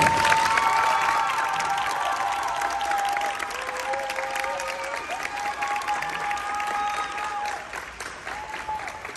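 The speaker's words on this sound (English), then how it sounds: "I'll give her a round of applause." A crowd at a high school aviation symposium closing ceremony applauds a technical sergeant, a full sustained round of clapping from start to finish, with a faint voice or tone drifting beneath.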